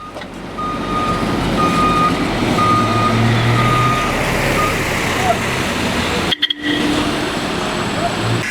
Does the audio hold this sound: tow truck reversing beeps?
yes